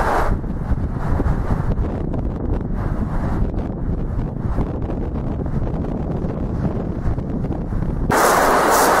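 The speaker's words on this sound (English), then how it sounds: "I'm personally a bit out of the wind, but there's still a lot of noise. The wind suddenly came." Strong wind blowing outdoors in a forest, roaring steadily across the microphone as a loud, continuous rumble, with a harsher gust burst at the very end.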